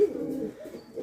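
Pigeons cooing at a pigeon farm: a low, steady stretch of soft, throaty coos up close, alone and without talk.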